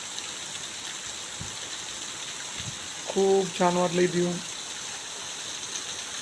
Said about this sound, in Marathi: हे बघा कसं पाणी येतंय वरतून